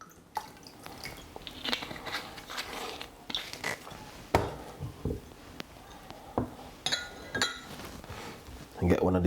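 A spoon clinks against a glass and a measuring spoon while apple cider vinegar is measured out in a kitchen, giving scattered light chinks, taps and drips, fairly faint and close.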